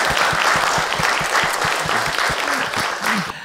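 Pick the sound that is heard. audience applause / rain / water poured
audience applause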